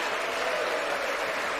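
Steady applause from Republican members in the House chamber, a dense, even wash of clapping that holds at a constant level with no break.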